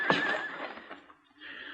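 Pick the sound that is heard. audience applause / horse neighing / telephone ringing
horse neighing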